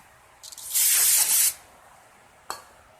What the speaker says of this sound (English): Have some NAPA parts cleaner here, just spray and clean all that up.